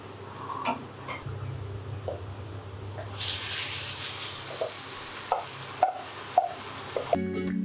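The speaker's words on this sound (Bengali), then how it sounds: "এখন আমি এখানে মাছের এই মিশ্রণটা ঢেলে দেব।" A wet fish mixture is poured into a hot pan of fried onions, followed by a rising, steady sizzle and a few clinks and scrapes of utensils.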